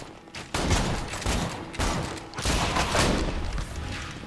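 Rapid bursts of gunfire from skeleton enemies in Borderlands 2's Tiny Tina's Assault on Dragon Keep crackle in overlapping volleys, loud and dense, with no talking.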